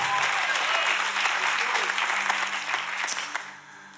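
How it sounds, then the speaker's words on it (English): Church congregation clapping hands in unison during a worship service, loud sustained applause with some crowd voices that fades toward the end. "Clap your hands in the house and in your house if you're ready for God's word."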